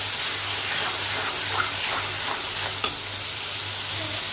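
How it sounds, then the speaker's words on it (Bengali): Spice masala frying in separated oil for a rohu fish curry, giving a steady dense sizzle with occasional soft stirring and one sharp clink, no voices. "তেল উঠে গেছে, ভালো করে ভাজা ভাজা করছি মশলাটা।"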